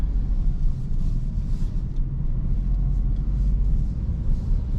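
A Citroen C3 with a 110 HP petrol engine pulling out of a large garage, heard from inside as a low, steady engine rumble and road hum with no talk.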